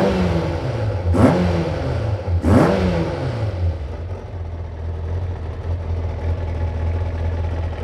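A rebuilt Kawasaki ZZR 600 motorcycle engine revs up sharply twice, rising and falling in pitch, then settles into a steady, rumbling idle at close range.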